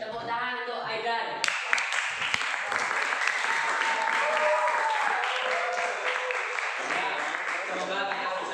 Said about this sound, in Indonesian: Tepuk tangan untuk Aidan.